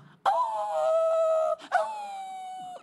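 A man imitates a dog howling with two long, sustained, mournful wails, the second following a brief break and trailing off at the end, loud and close.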